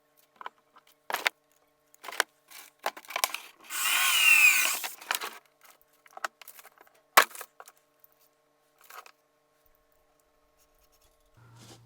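Several short bursts of drilling holes into a cast figure's arms, hard material, with one longer whirring stretch in the middle, separated by quiet pauses and small clicks.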